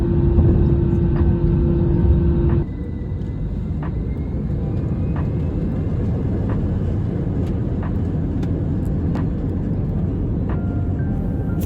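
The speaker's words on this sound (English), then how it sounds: "First plane takeoff went pretty well" Airplane on its takeoff roll, heard from inside the cabin as a loud, steady roaring rumble with an engine whine that shifts after a couple of seconds and then holds.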